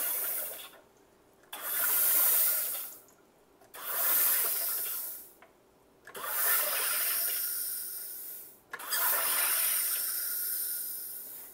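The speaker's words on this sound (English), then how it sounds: "You hold it down for bubbly water about five times" A SodaStream Jet sparkling water maker carbonates water in four loud, rushing hisses of about two seconds each, separated by brief quiet gaps, close up with no talking.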